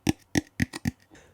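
Kalimba notes plucked close up, the tone shaped by covering and uncovering its sound hole: five short bright plinks in an uneven rhythm, each ringing briefly, followed by a softer, fainter tail.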